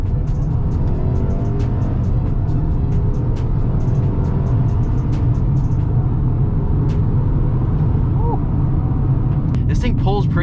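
A 2021 Mercedes-Benz GLA 250 accelerating in drive, its engine a steady loud drone heard from inside the cabin, with a few brief higher squeaks near the end.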